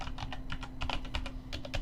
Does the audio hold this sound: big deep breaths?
no